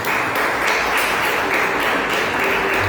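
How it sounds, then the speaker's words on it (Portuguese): Church congregation applauding during a worship service, a dense, steady wash of clapping that fills the whole moment at moderate loudness with no voices over it. "Aplauda bem forte a nossa Senhor."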